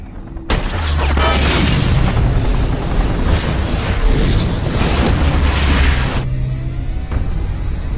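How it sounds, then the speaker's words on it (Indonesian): An oil tank on a ship explodes in a film scene: a sudden loud blast bursts out, then a sustained roaring rumble of fire and debris lasts several seconds before dropping off sharply. "Tembakannya mengenai salah satu tangki minyak di atas kapal, menimbulkan ledakan besar"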